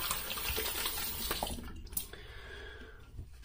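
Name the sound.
water running while rinsing off after shaving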